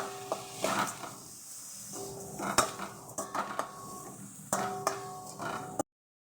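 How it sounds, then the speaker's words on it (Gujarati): Metal spoon scraping and clinking against a pan while poha is stirred with sugar, turmeric, coriander and cumin powder, a string of close, bright clatters and scrapes over a faint sizzle, ending abruptly. "ખાંડ આપણે હળદર ધાણા જીરું મિક્સ કરી લઈશું"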